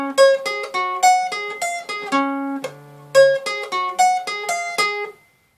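A guitar picks out an opening riff, with a rhythmic run of bright, evenly spaced single notes and one held lower note partway through, played close and alone before stopping abruptly.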